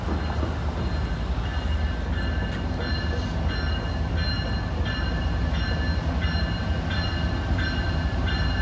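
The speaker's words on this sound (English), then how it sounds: "This is the third train we got." A train rolls steadily past nearby down the middle of a main street, a constant heavy rumble with faint rhythmic clicks of wheels over rail joints, no voices.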